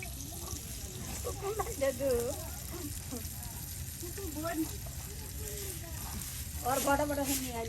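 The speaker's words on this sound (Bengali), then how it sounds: "আর এদিকে আমাদের মাছের টুকরাগুলা সুন্দর করে ভাজি ভাজি করা হচ্ছে" Boal fish pieces fry in hot oil with a steady broadband sizzle throughout, while voices talk over it in the foreground.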